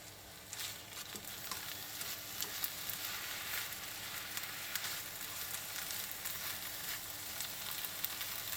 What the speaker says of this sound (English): quickly saute the bok choy in a little sesame oil until the